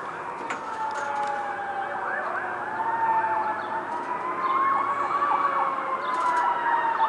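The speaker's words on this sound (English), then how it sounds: "New Britain with the sirens, it's a pretty common sound around here." Emergency vehicle sirens wail through the streets of New Britain, Connecticut, a loud rising and falling tone with overlapping sweeps that carries steadily throughout, heard from outdoors near a roof.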